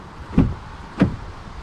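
Two short thuds and clicks about half a second apart come from the door of a Cupra Born VZ car being opened, close and clear with no talk over them.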